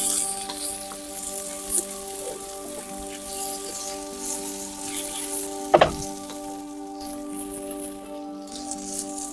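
Chicken pieces and capsicum fry together in a pan for a chicken roll filling, making a continuous bright sizzle over a steady humming tone, with one brief clatter midway.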